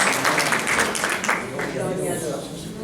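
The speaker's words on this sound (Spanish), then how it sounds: "Denle un fuerte aplauso al Señor" A church congregation applauding in worship, a dense clapping wash mixed with voices and talk that gradually thins out.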